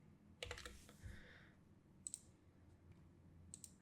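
Quiet computer keys are tapped to type a coin name into a search field, a short burst of soft clicks followed by a few isolated taps, faint and close in a silent room.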